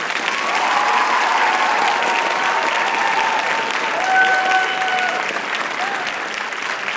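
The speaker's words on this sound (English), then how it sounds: "give him a big round of applause" A school writers expo audience applauds to vote on a battle, with sustained clapping from a crowd and voices murmuring underneath.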